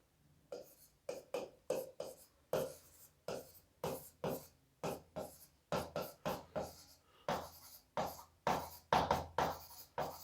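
Marker or chalk strokes on a small board during a chemistry lecture, a long run of quick scratchy squeaks in uneven bursts, close and faint, with no speech.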